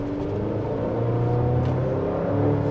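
A 2026 Chevy Colorado ZR2 with a turbocharged four-cylinder engine accelerates on a multi-lane highway, giving a steady low engine drone and road rumble from inside the cabin that builds slightly toward the end.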